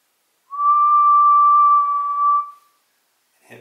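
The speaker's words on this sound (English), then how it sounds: "And I can do something interesting like whistle." A person whistles one steady, clear, pure tone, close and fairly loud, holding it for about two seconds in a quiet room before a faint click follows.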